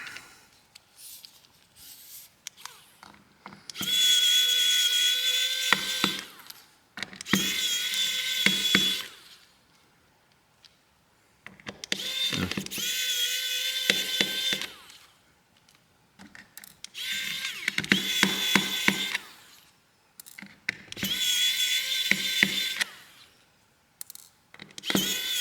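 A small electric screwdriver removing screws from a Maxwest Astro A66 phone during teardown, whirring in about six bursts of a few seconds each with quiet gaps between, close and fairly loud, no talking.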